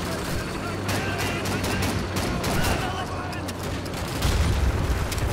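Heavy automatic gunfire and explosions in the World War II shooter Call of Duty 2, sustained volleys with bursts of booms, loud and continuous under game noise and players talking.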